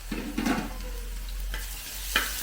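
Crushed ginger and garlic dropped into hot oil with mustard and fennel seeds for a chicken curry, a soft crackling sizzle with a few stirring clinks, close and fairly quiet.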